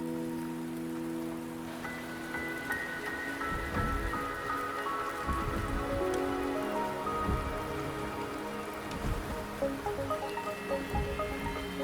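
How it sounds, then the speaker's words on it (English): Steady rain pours down in the video game Wuthering Waves, a constant wash of drops on surfaces lasting throughout, layered with soft sustained musical tones and a few louder splashy thuds. "The rain is subsiding, and the sky will soon clear."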